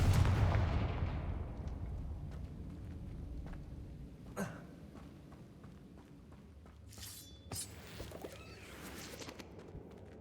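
Confringo fire spell blast in the game Hogwarts Legacy: one loud burst at the start decaying into rumble, followed by sharp crackling and shattering impacts, then a few bright chiming spell effects.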